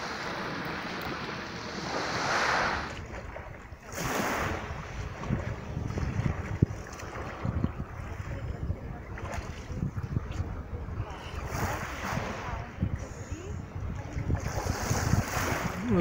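Sea waves rolling onto the shore at Yalta on a windy, clouded late-November day, surges breaking and washing back under heavy gusts buffeting the microphone, loud and close.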